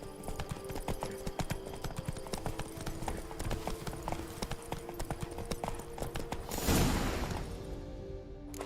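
Roach, Geralt's horse in The Witcher 3, clip-clopping along at a steady pace, the hooves close and clear over game ambience, then a brief louder burst near the end.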